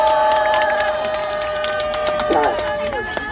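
Outdoor political rally crowd claps and cheers for the police on duty at a demonstration, a loud burst of scattered clapping and shouts mixed with voices and a brief rise in cheering partway through.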